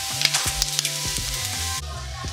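Vegetables sautéing in a pan, a steady broadband sizzle with repeated clinks and scrapes from stirring, fairly close and continuous.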